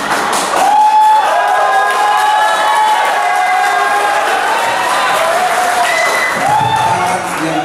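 Loud, sustained applause from a church congregation at a youth service opening, continuous close clapping mixed with crowd noise and a few cheers throughout.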